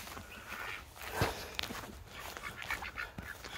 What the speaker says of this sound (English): getting closer to the ducks.